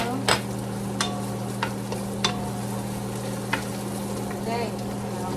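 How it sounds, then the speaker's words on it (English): Ginger sautés with onions and garlic in a pan for Filipino sinigang, a steady close sizzle broken by a few sharp clinks of a utensil stirring against the pan. "I'm gonna saute the ginger along with the onions and garlic."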